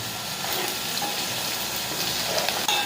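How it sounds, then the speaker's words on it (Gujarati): Hot oil tempering (vaghar) for dal sizzles and crackles steadily and loudly throughout, a dense frying hiss with small pops, close by and with no talking. "હાલો હવે દાળનો વઘાર, હવે દાળ દઈએ વઘાર દઈ દો."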